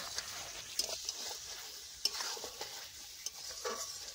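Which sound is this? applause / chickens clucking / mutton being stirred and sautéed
mutton being stirred and sautéed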